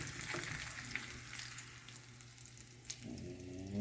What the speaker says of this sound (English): Listen to that sizzling.